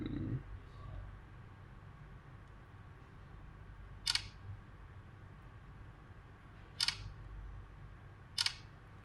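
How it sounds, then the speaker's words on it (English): Infinix S4 phone camera shutter firing three times for selfies, short crisp clicks spaced a few seconds apart over a low, quiet room hum with no talking. "let's take some selfies of Mr. Jon Snow."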